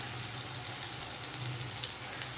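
Spices with ginger and green chilli fry in hot oil, giving a steady, close sizzle that holds evenly throughout with no voices.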